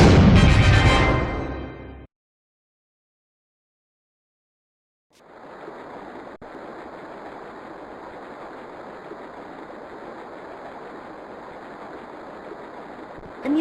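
A steady rushing river flows in the video game Ben 10 Ultimate Alien: Cosmic Destruction, a continuous broadband wash of water that starts after a loud burst and a few seconds of silence.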